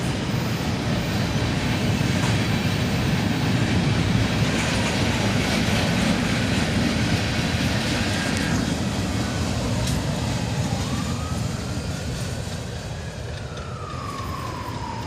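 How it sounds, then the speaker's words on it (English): A long CSX freight train rolls across a bridge in a continuous, loud roar of wheels and rail clatter lasting throughout, with no voices. "the tail end of the train went by"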